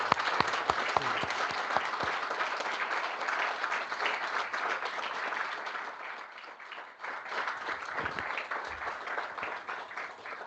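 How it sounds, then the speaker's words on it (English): Sustained applause from people at a council budget-setting meeting, dense steady clapping that dips briefly midway then continues, with a few louder individual claps standing out. "Round of applause, please."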